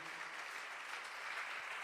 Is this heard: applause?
yes